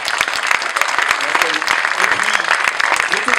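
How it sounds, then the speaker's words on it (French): A conference audience at a cycling-travel event claps for a speaker after his talk, a moderate, even applause from a seated crowd with some background murmur. "on l'applaudit"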